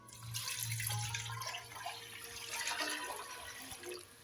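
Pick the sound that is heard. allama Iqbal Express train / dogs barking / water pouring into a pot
water pouring into a pot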